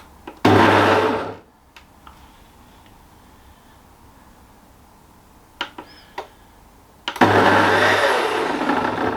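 A Ninja soup maker whirring on its chop setting in two loud bursts of steady blade spin, separated by quiet and a few light clicks and knocks.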